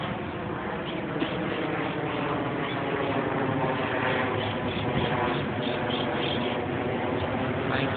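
A steady, dense rotor-and-motor drone from a flying Trex 450 radio-controlled model helicopter hums continuously with a faint rhythmic chop, even and unbroken from start to finish.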